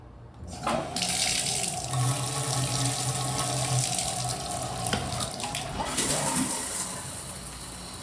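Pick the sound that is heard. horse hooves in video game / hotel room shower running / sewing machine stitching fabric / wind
hotel room shower running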